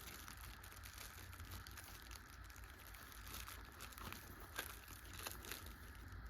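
A plastic loot bag for baby shower favors, filled with candy, crinkles softly while string is tied around it. Faint, close, irregular rustling and crackling continues throughout with a few slightly sharper crinkles.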